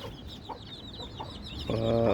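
Sick chicks with bloody diarrhea, kept on bare ground, cheep and cluck in a continuous close chatter, with a louder burst of fowl calls at the end.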